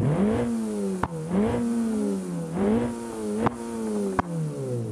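A Hyundai i20 engine in the driving game BeamNG.drive revs up and down in repeated rising sweeps, loud and close, with a few sharp pops or clicks between the revs.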